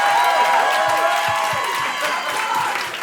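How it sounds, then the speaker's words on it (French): A comedy club crowd at the Jamel Comedy Club claps and cheers loudly, a full sustained round of applause with scattered whoops that tapers slightly toward the end. "On applaudit"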